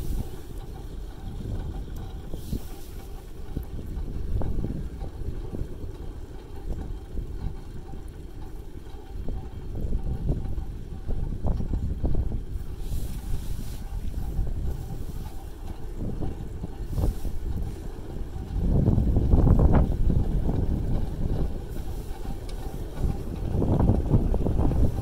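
Wind gusting around a Green Energy Smartdrive motor wind generator during testing, a continuous low rumbling roar with buffeting swells that grow louder near the end, with no talking.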